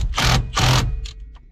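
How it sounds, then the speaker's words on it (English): A dent puller jammed into the ignition lock of a Ford Aerostar van that sat for twenty years, giving two loud harsh grinding bursts followed by two shorter, fainter scrapes. "I believe it's a dent puller"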